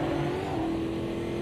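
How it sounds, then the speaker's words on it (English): Tyre squeal from a car in the Automobilista 2 sim racing game, a sustained steady tonal screech held over a continuous engine drone for the whole short stretch, fairly loud and without voices. "There, that skid sound"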